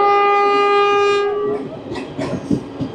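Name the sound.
Saffron Vande Bharat Express train passing with horn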